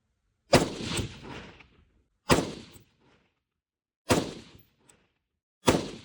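Four suppressed rifle shots with a 10.5-inch barrel and quick-detach silencer, each a sharp muffled crack with a short decaying tail, spaced roughly two seconds apart at close range with no voices.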